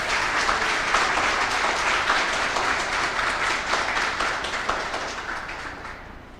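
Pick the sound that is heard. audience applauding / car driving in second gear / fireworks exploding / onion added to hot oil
audience applauding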